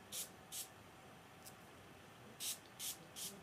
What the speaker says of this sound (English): So I'm just going to spray these two sections here